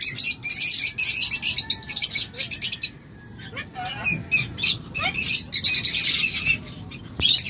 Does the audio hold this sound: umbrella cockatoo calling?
yes